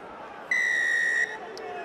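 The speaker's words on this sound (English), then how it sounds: "Marius van Westhuizen blows the whistle to start this Pool C encounter" A referee's whistle sounds a single steady blast of under a second to start a Fiji versus Canada rugby sevens pool match at the 2014 South Africa Sevens, heard over a low stadium crowd murmur.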